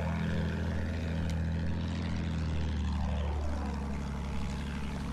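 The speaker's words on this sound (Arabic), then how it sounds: "طيارة يلا طيارة." Propeller warplane engine drone from the Battlefield 1 battlefield, a steady loud hum with a pitch sweep as the aircraft passes, continuous throughout with no talk.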